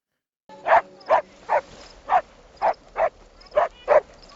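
A dog in a television show barks in a series of about eight sharp, evenly spaced barks, loud and close, after a brief silence, with no talking in between.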